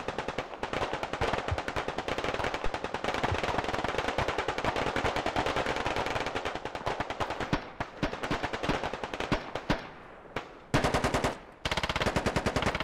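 Sustained machine gun suppressing fire in the tactical shooter Squad, dense rapid bursts continuing almost nonstop with brief gaps near the end, loud and close with distant gunfire layered underneath.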